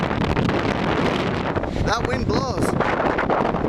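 Strong wind buffets the microphone on open, bleak high ground in stormy weather, a loud continuous roar with gusty rumble, and a voice briefly heard through it.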